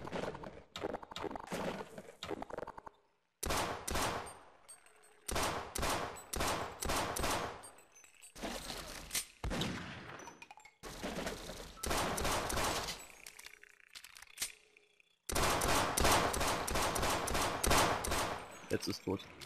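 Half-Life turret gunfire in a video game, loud repeated bursts of rapid shots separated by brief pauses, spread across the whole stretch with game noise between volleys.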